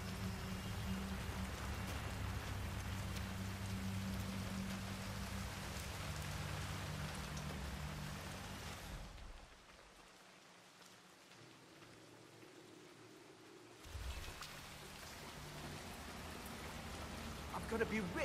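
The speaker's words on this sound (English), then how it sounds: "I'm never going out in the rain again." Steady rain pours down in a scene from the video game Hitman 3, a soft, even hiss that drops away for several seconds and then returns at full strength.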